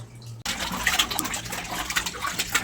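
Cut mutton pieces being washed in water, with splashing and sloshing starting suddenly after a brief quiet moment and then continuing steadily close by.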